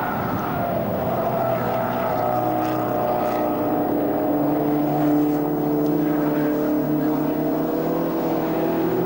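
Classic MGB GT race car at a 1999 Silverstone club race meeting, its engine droning steadily and loudly as it passes, with other cars blending into a continuous track roar.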